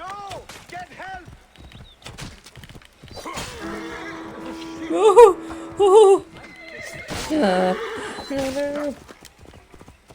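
In the Assassin's Creed Origins video game, a horse clops its hooves and then gives two loud, shrill whinnies up close, followed by a lower snort, while people shout and talk over it.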